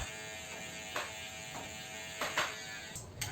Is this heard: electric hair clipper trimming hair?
yes